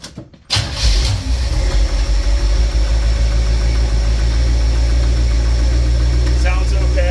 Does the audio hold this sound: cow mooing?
no